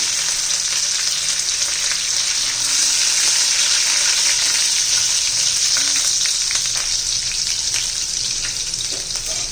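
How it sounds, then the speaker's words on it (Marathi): Garlic cloves and green chillies frying in hot oil with crackled cumin and mustard seeds for a radish-greens stir-fry, giving a loud, steady, close sizzle with fine crackling throughout and no talk. "जिरं मोहरी चांगली तडतडली आहे लसूण घालूया"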